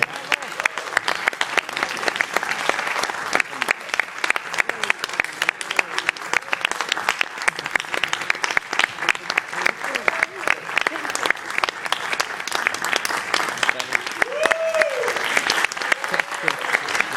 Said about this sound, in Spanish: el mejor, el más fuerte de los aplausos para todos los participantes de esta gala